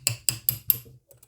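A jeweler's hammer taps a pin out of a 1977 Webley Hawk Mk3 air rifle, four sharp, evenly spaced metallic knocks, close and crisp, followed by a couple of faint ticks.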